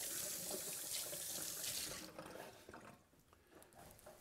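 A kitchen tap runs steadily while fingers are rinsed under it. The stream sounds loud and close for about two seconds, then drops to quieter trickles and drips as the water is shut off.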